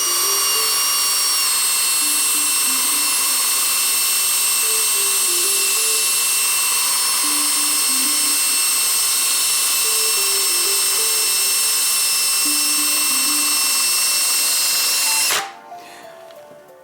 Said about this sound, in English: I've got a nylon brush here on the drill.